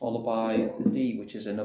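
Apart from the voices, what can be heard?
None of the usual background noises is heard.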